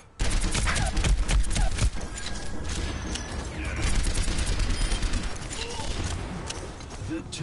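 Continuous rapid firing from an enemy turret in Overwatch on PS4, a dense clattering barrage that stays steady and loud throughout with battle noise layered on top.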